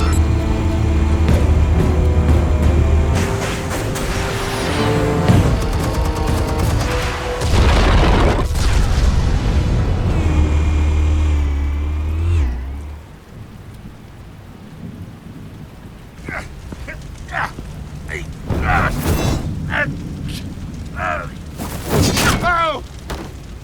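Explosions detonate in Batman: The Telltale Series, Episode 1: loud rumbling booms with a heavy low roar over the first dozen seconds, then sharper scattered bangs and debris crackles as the blast settles.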